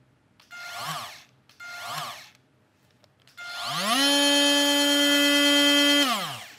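A Makita 18V LXT oscillating multi-tool buzzes in two short bursts, then spins up again and holds a steady, fairly quiet high whine for about three seconds before winding down, with no talking.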